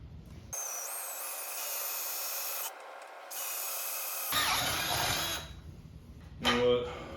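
A power drill whines at high pitch in long sustained runs, stopping and restarting, with grinding as the bit bites through material up close, drilling mounting holes on a 1990s two-stroke motorcycle build near the airbox.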